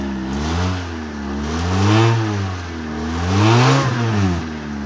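A 1993 Honda Civic engine, started for the first time in two years, revs up and down in two slow, rising and falling swells, close and loud, with no talking.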